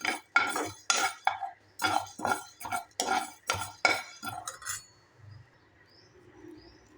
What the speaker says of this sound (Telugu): కొంచెం మంచి స్మెల్ వచ్చేంత వరకు వేయించుకుంటూ ఉండాలి.